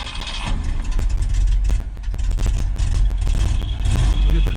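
A 1973 Ford F-250 with a sticking choke idles roughly, a loud, uneven low engine rumble with short irregular bursts and clatter over about four seconds.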